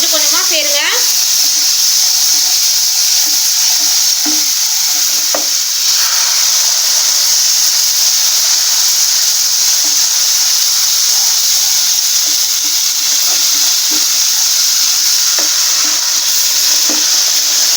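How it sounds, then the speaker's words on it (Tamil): Boiling water poured into wheat flour for halwa, giving a steady, loud hiss and sizzle that runs unbroken for the full length, with faint stirring clicks on top. "இப்போ இந்த தண்ணியை நம்ம கோதுமை மாவில் சேர்த்துடலாம்."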